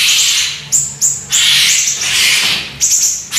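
A young white-rumped shama (murai batu) songbird sings loud, close, sharp whistled phrases in short repeated bursts with brief pauses between them, with no voices present.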